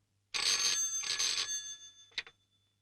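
An old telephone bell rings in two long bursts and then a short third one, clear and fairly close, with no voices.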